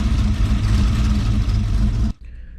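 A black Ferrari 250 GTE with 37,000 miles running steadily close by with a loud, rough mid-pitched engine drone that cuts off abruptly near the end, leaving quieter background rumble.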